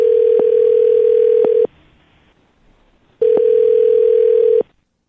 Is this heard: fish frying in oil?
no